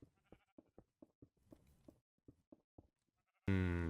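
Video game sheep bleat in a run of short, repeated bleats in quick succession, then a sudden loud, sustained bleat that drowns everything at the end.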